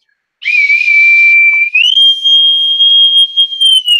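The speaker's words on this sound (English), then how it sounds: "Little bosun's whistle" A bosun's whistle blows shrill and steady, loud and close, sustaining a single high tone that rises a little partway through, with no voices.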